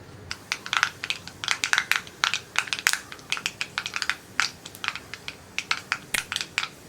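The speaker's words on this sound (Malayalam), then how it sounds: "കടുകൊന്ന് പൊട്ടി വരട്ടെ." Mustard seeds pop and crackle in hot coconut oil in a pan, a dense, irregular run of sharp, close snaps lasting the whole stretch with no voices.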